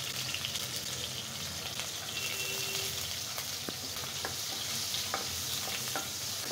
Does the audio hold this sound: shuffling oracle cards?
no